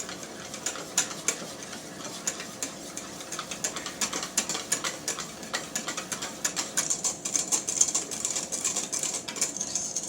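Crème brûlée custard being scraped from the sides of a bowl: quick, steady, rhythmic scraping strokes close by at a moderate level, with no talking.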